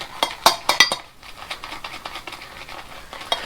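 Stirling Barbershop shaving soap being moved into another bowl, giving a quick run of bright clinks and taps at the start, then softer scraping and patting with a final clink, close by and without speech.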